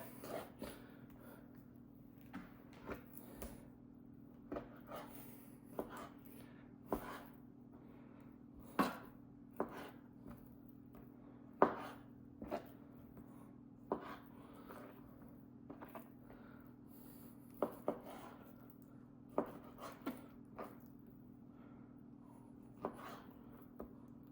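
An AUS8 steel Swisstech Stählern knife makes light cutting strokes, a faint series of soft, evenly spaced taps and scrapes repeating steadily over a quiet low hum.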